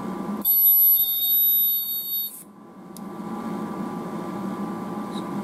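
An Abbeon ultrasonic welder welds with a loud, steady high-pitched tone that lasts about two seconds, then cuts off, leaving a low machine hum in the background.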